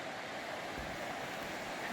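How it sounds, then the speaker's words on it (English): Laurel Fork, a mountain creek along the Appalachian Trail, gives off a steady broadband rush of flowing water, constant and moderately close, with no voices. "Listen to that water."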